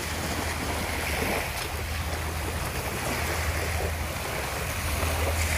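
At a seaside fishing village with fishing boats moored nearby, a steady wash of wind and surf plays with a low, constant rumble underneath and no one talking.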